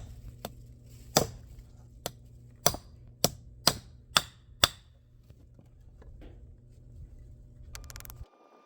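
A trailer part is struck with about eight sharp metal hammer blows in an irregular rhythm, close and loud against a low background hum that cuts off near the end.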